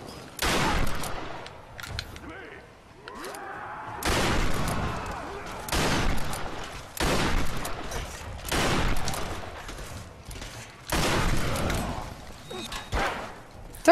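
Repeated bursts of enemy fire in the Tomb Raider video game, a series of loud, dense blasts arriving every couple of seconds over background game sound.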